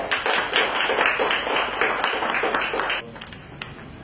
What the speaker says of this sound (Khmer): សុំសម្លេងផ្ទះដៃបាទ